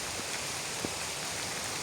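Faint, steady rain hisses evenly, with no voices.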